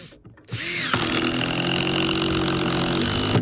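A Makita power driver spins up and drives a screw into an oak board, a loud, steady whining motor that rises in pitch after a brief start and runs close for about three seconds.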